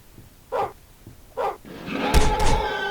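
In the Roblox Piggy video game, a dog gives two short barks, then a louder burst of barking and growling over faint game background noise.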